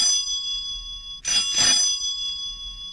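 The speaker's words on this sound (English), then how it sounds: "Now, ring the bell before I really lose my temper." A bell rung in an old slapstick comedy, two quick bright metallic rings close together standing out over a quiet background hum.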